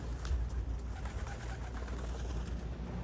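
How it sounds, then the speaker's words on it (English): Racing pigeons coo softly on the ground outdoors, low murmuring calls repeating under a steady outdoor background hum, fairly close and moderate in level. "I got a lot of birds on the ground outside."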